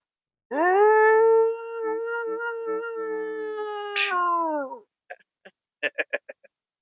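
A man imitates a Bigfoot yell with a long, loud, tonal howl that wavers and then breaks off, followed by a few short, sharp vocal bursts.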